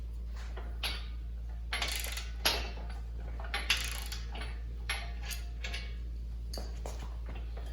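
Large 22 mm bolts being fastened while assembling a Harbor Freight 2-ton engine hoist, with intermittent metallic clicks and ratcheting clacks at irregular intervals over a low steady hum, close by and with no speech.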